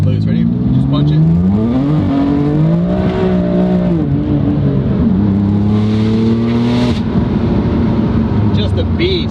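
A BMW M4 fitted with an Armytrix exhaust and a stage 2 tune accelerates hard, its loud engine note rising steadily through the revs with a brief dip at a gear change before climbing again, close and continuous throughout.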